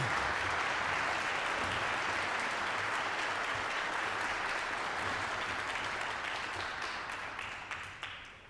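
Sustained audience applause from a concert band crowd welcoming the director to the stage, a dense steady wash of clapping that stays loud throughout and tapers slightly near the end.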